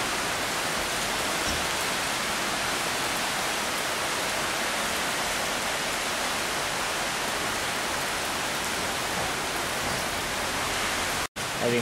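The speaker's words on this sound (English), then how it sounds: "Rain's starting to come down pretty good again." Heavy typhoon rain pours down outdoors in a dense, loud, unbroken roar that lasts nearly twelve seconds, with a brief dropout shortly before the end.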